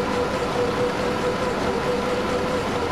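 Steady rumbling drone of a 1 km long freight train running in Transport Fever, a continuous rolling rail noise with faint tonal hum, even and unbroken throughout.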